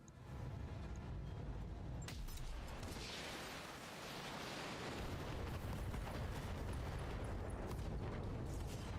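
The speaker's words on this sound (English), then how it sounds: "Ammo explosion." An ammo explosion in the BattleTech video game erupts as a sharp blast followed by a long, rolling roar of debris and fire, heavy and sustained across several seconds, with no talk.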